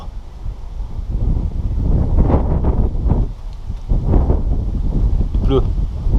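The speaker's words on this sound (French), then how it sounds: "Ah, il commence à pleuvoir." Wind gusting outdoors in Paris as rain begins during a strong thunderstorm, a loud, rough, rumbling rush that swells and eases, with brief speech over it.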